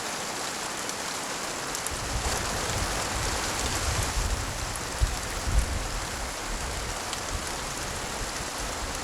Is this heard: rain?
yes